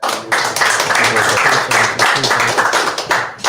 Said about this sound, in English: why don't we clap for you brothers, man?